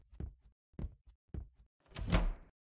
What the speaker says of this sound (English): Doors. You open the doors very aggressively.